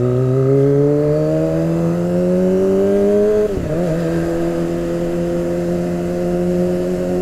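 A car pulls away on a city street in Jakarta's Pondok Indah area. Its engine climbs steadily in pitch, dips briefly at a gear change midway, then rises again, loud and close as heard from inside the car.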